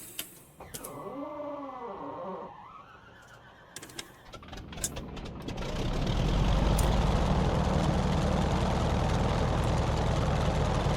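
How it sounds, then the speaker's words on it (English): Radial Pratt & Whitney piston engine of an F4F Wildcat in a flight simulator cranking with whining starter tones, coughing into life and settling into a loud, steady rumbling run. "let's bring the mighty Pratt & Whitney engine up and to life"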